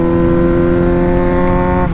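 A Suzuki GSX-R 600 motorcycle engine revs high and holds a loud, steady, tonal whine, then dips slightly right at the end.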